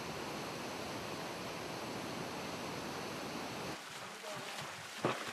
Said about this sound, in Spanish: El agua que fluye posee energía cinética.